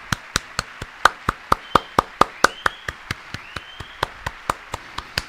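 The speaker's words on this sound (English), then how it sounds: "Can we just have a round of applause for the brilliantness behind this autistic man?" Clapping at a speech, heard as sharp, evenly spaced claps in a steady unison rhythm, about four per second, close and distinct against a quiet background.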